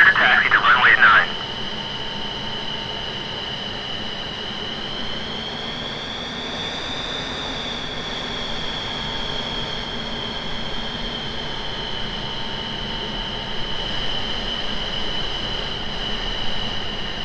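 A MiG-29 fighter jet taxis toward the runway in a flight simulator game, its engines giving a steady whining drone with a high tone that rises slightly and falls, continuous and fairly loud, preceded by a short burst of radio chatter.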